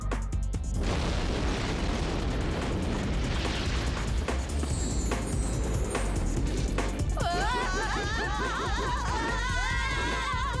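A loud cartoon bomb blast booms and rumbles continuously aboard a flying saucer, with crackling debris and whistling, warbling sound effects rising toward the end.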